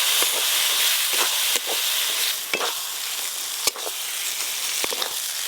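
Ground coriander, chili and turmeric with a little sugar frying in oil with melted-down tomatoes for an egg curry, a loud continuous sizzle broken by occasional stirring scrapes.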